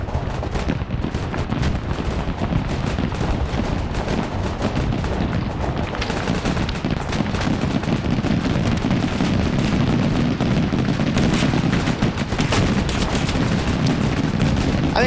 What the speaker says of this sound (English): Here's the mortars lighting stuff up.